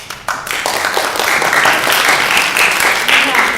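A church congregation bursts into steady, dense clapping that continues throughout, fairly close and loud, with some voices mixed into the applause.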